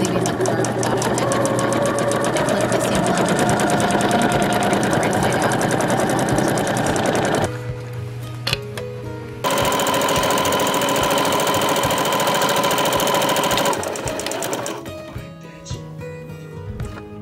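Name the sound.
sewing machine stitching wool and linen half cloak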